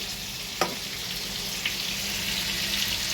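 Potatoes frying in hot oil in a pan, a steady close crackling sizzle throughout with a sharp utensil knock early on and another soft tap later.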